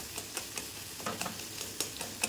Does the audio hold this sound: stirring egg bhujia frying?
yes